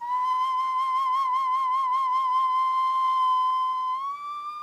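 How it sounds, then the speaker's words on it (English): A stone whistle, a replica of ancient Chavin instruments, sounds one sustained, clear, pitched tone with a gentle warble before the pitch lifts slightly near the end, close and alone. "Whistles carved from stone."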